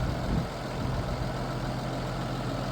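A farm tractor idles with a seed drill attached, ready for sowing beans: a steady, close, low diesel rumble that holds even throughout with no voices.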